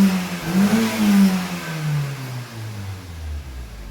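A Honda Civic 1.8 i-VTEC, heard through its twin exhaust, revs up and then lets the pitch slide back down, loud and close with no talk.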